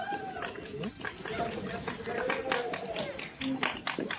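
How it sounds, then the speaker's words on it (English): Scattered audience clapping at a Super Smash Bros. Ultimate singles tournament, a steady patter of claps running the whole time beneath a commentator talking over it. "Why are we clapping?"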